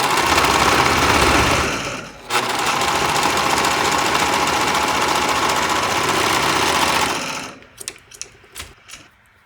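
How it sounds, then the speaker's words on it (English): A serger stitches a fabric seam on a baby top made from old basketball shorts, running in a loud, continuous close whir with a short dip partway, then stopping into quiet handling clicks. "So I use my serger for that"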